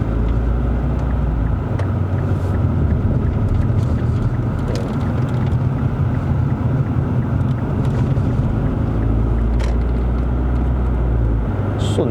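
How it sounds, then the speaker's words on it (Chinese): An Infiniti Q50 2.0T GT pulls away from a standstill and shifts up into second gear, its engine a steady low drone heard from inside the cabin with road rumble and wind noise running throughout. "你看它起步真的是这样快就2档了"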